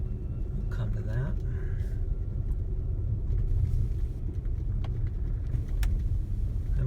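A Tesla Model S P85D on Michelin tires drives through snow with a steady low road rumble and faint crunching, while people talk over it.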